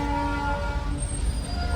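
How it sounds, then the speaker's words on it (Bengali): Darjeeling toy train near Ghum station at about 7,000 feet, heard from a car: a steady rumble of the passing train with sustained horn-like tones throughout. "সামনে একটা টয় ট্রেন দেখতে পেয়েছি"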